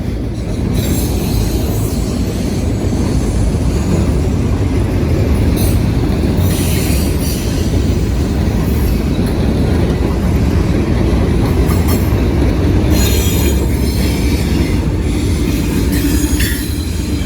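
A Norfolk Southern freight train with a rear DPU and caboose crosses a railroad diamond in Marion, Ohio, producing a loud, continuous roar of rolling wagons with wheel squeal and repeated clattering hits over the crossing.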